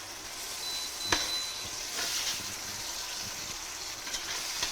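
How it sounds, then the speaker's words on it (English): Tripe simmering in a curry pot over low heat, a steady soft bubbling sizzle with a few brief clicks and pops, close and fairly quiet, no voices. "we're just going to let this tripe to simmer a bit"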